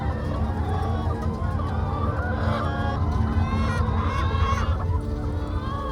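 Dense, constant clucking and squawking of hundreds of laying hens packed into an egg mega-farm barn, loud and continuous with no pauses.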